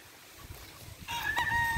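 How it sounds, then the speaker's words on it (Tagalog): A Boston Black broodcock rooster crows once; the call begins after about a second of quiet and carries, clear and strong, to the end. "Broodcock Boston Black."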